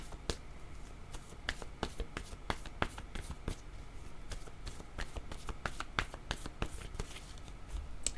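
Oracle cards being shuffled by hand, a steady run of crisp, close riffling snaps and flicks repeating across the whole stretch, with no voice over it.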